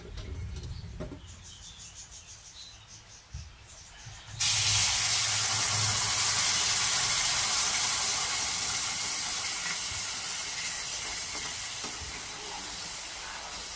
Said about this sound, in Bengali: এই দুধটা এবার দিয়ে দেবো এতে